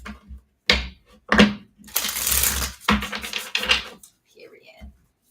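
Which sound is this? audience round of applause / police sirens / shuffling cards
shuffling cards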